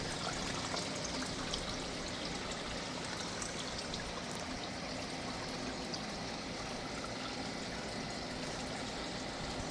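Steady, full rushing splash of a garden waterfall pouring into a pond, continuous and fairly close with no pauses, no voices over it.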